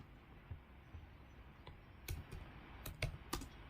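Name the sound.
typing a command on a computer keyboard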